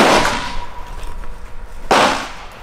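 Two sharp, loud gunshots from a 300 Blackout rifle fired at a 25-yard range outdoors, spaced about two seconds apart, each with a short ringing decay.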